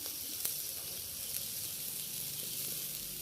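Pork grills over heat with a continuous soft, even sizzle and hiss, faint and steady throughout, with a couple of tiny pops.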